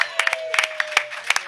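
Scattered hand claps from a small audience at a live racing podcast recorded at McGilvery's, a handful of distinct claps in uneven rhythm over a steady tone, fairly close and moderately loud.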